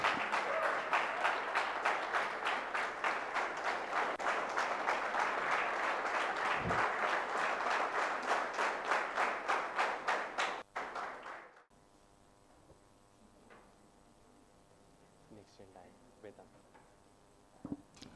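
Loud, sustained audience applause for project competition winners at a prize distribution event, a dense wall of clapping lasting about eleven seconds before cutting off abruptly, leaving a quiet room with faint scattered sounds.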